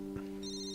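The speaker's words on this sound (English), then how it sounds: "when my phone begins to ring" A telephone ringtone rings steadily for under a second, a sustained electronic tone with a brighter chiming layer joining partway through, fairly clear and alone.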